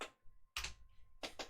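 Keys on a computer keyboard typed in three short clattering bursts separated by brief quiet gaps, close and fairly crisp, with no talking.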